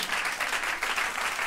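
A concert audience at an MTV Unplugged show applauds steadily, a dense, continuous wash of clapping from a large crowd at a distance.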